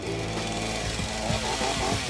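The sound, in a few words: chainsaw cutting into rotten wood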